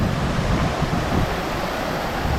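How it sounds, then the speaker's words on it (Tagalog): Steady broadband rushing water from a river flowing near a waterfall at Tousuvan Falls in Magpet, a continuous full wash of sound with no talk, close and moderately loud throughout. "Yan o, may ilog pa dito."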